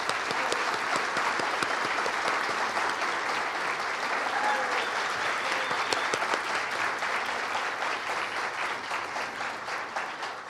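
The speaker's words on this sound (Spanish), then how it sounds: "se merece otro aplauso a Adriana Guillén con el equipo de Azocajas" A large conference audience at an Asocajas congress breaks into sustained, even applause, dense clapping that holds steady for about ten seconds and thins slightly toward the end.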